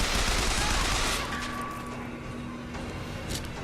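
Gunfire in the video game BioShock Infinite, a loud burst of rapid shots that tails off into a lingering, noisy game background.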